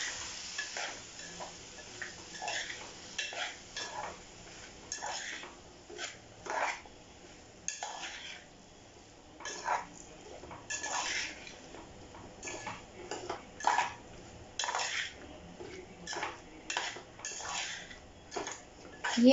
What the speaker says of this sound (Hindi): ये हमने पोटैटोज और ग्रीन पीस को अच्छे से मिक्स कर लिया।